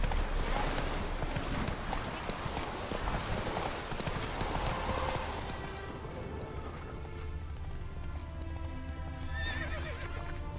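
Roach, a horse in the Witcher 3 video game, gallops with steady, loud clip-clop hoofbeats and a whinny, driving hard at first and then easing into a lighter, more even gait.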